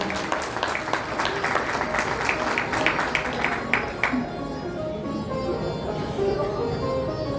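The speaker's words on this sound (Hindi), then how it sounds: "तालियां तो बजा दी तुमने और भी बजा दोगे" An audience at a Hindu religious discourse on the Ram Katha claps in a dense burst of applause for about four seconds, then it fades into a quieter murmur of the hall.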